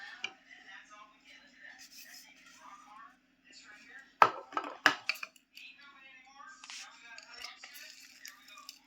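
Wood apple pulp is mashed with green chilli in a bowl, giving soft squelches and a few sharp clinks of a utensil against the dish, while a person talks quietly nearby.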